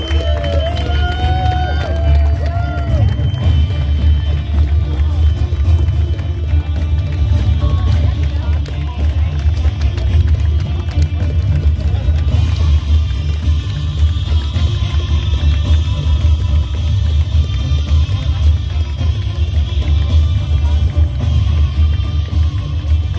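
A large crowd at an outdoor rally in Gera cheers and applauds in a dense, continuous roar that stays loud and steady throughout, with shouts mixed in.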